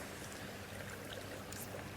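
A river about 18 feet wide flows steadily over a rocky bottom, producing a constant, soft, broadband rushing wash with faint trickles and no voices.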